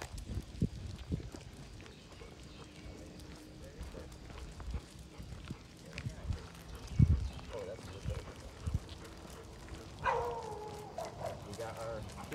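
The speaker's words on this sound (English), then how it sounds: "Here's the barking dog." A dog barks in sharp, scattered yips and woofs on a blacktop surface during a heeling session, fairly quiet and mixed with footsteps and a person talking.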